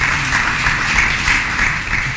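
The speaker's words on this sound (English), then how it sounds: "This applause goes to all speakers from the morning session." Steady applause from a seminar audience thanking the morning session's speakers, a close, continuous patter of many hands clapping with no talk over it.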